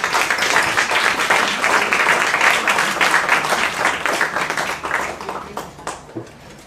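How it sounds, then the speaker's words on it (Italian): A large audience breaks into sustained applause at a Japan Day event in Italy, dense clapping from many hands that holds steady and then thins into scattered claps near the end. "Vogliamo ricordare con un grande applauso Erin, che è mancata da poco."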